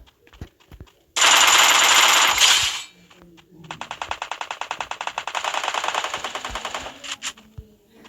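Rapid automatic gunfire in the mobile video game Free Fire: a long, loud, solid burst, then a second fast string of evenly spaced shots that rattles on for several seconds, close and dominant with only faint clicks around it.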